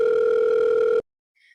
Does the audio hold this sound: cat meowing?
no